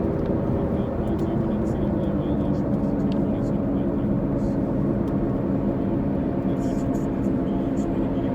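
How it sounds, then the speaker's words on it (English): A plane comes in to land near the Knoxville airport in Tennessee, its steady broad engine roar continuous and fairly loud throughout, with no clear speech over it. "Here comes a plane landing now."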